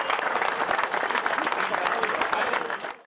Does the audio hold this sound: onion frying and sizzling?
no